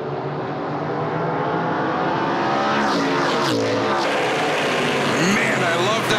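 NASCAR Pinty's Series stock cars racing on a road course in the 2019 season finale, a loud continuous engine roar with a rising whine as cars pass close by, and faint commentary voices mixed beneath.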